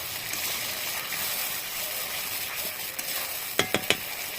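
Spices cooking with whisked sour yogurt and cashew paste in a pan for a Bengali rui posto fish curry give a steady, soft sizzle, with a few sharper scraping stir clicks near the end.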